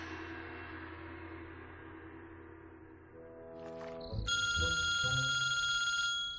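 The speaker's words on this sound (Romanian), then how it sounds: "ți-a sunat telefonul și am răspuns eu" A telephone bell rings loudly and steadily in a sustained electronic trill after a quieter stretch of music and movement.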